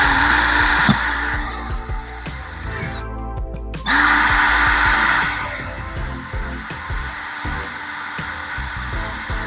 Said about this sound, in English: So I got the small drill bit now.